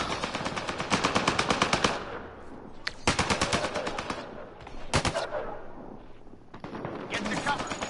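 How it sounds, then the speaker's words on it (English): Rapid bursts of automatic gunfire from the Mass Effect video game, loud repeated volleys separated by short pauses, with a player's voice occasionally under the shooting. "Oh, we're gonna shoot stuff."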